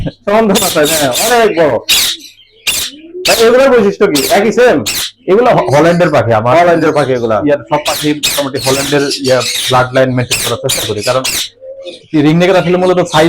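A large albino ringneck parrot at a parrot farm gives loud, harsh squawks, repeated in bursts close by, with people talking in between.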